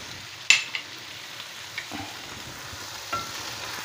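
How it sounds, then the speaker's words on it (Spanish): Sweet paprika sizzles in a pan for a chicken and meatball stew while a spoon stirs it. There is a sharp scrape near the start, a few softer clinks, and a steady hiss of frying underneath. "Vamos a menearlo, que no se nos queme."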